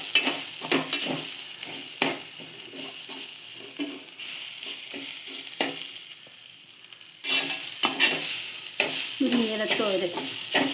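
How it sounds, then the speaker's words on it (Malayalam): Moringa leaves and green gram thoran being stirred in a hot pan, with steady sizzling and repeated scraping strokes that grow louder and busier in the last few seconds; no talking. "2 മിനിറ്റ് നേരം ഇളക്കി കൊടുക്കുക."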